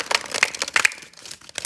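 Tarot cards are shuffled by hand in quick, crisp bursts of papery riffling and flicking, close up, with several short clusters followed by a quieter pause and a final flurry.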